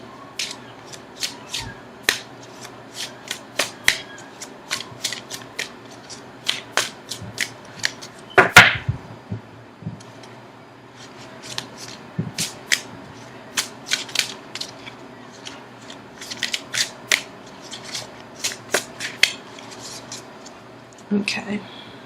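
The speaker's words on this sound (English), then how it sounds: "Okay, so now I'm going to shuffle for an outcome card." Tarot cards are shuffled by hand, producing a long run of crisp, irregular flicks and riffling snaps, close and fairly quiet, with brief pauses and a heavier thump midway.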